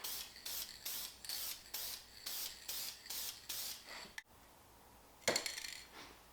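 Repeated short hissing bursts of a Rust-Oleum spray paint can, about eight in a steady rhythm, close up, followed by a pause and a brief rattling clatter.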